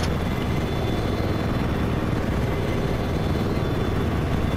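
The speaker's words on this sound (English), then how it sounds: "another jet inbound" Jet aircraft roar in Battlefield 4 gameplay, a steady loud broadband rumble with engine drone sustained throughout, no clear voices.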